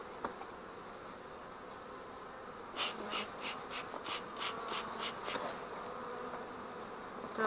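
Honeybees buzz steadily in a low drone inside a hive, with a short series of sharper, rhythmic buzzing pulses rising in the middle, close by.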